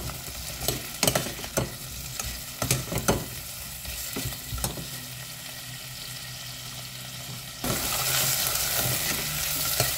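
Garlic, carrots and potato sauté in a hot pan with steady sizzling, broken by repeated stirring clatters, and the frying swells louder and denser toward the end.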